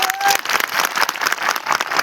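A crowd applauding at a dam protest rally in Raghopur, a brief, loud, dense burst of clapping with a short voice at the start.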